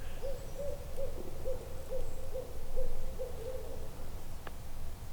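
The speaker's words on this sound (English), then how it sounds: "you get a real owl to fire back to you like that and just did" Real owl hooting in reply during a spring turkey hunt on Wisconsin public land, a run of about nine soft, evenly spaced hoots heard at a distance over low outdoor rumble and wind.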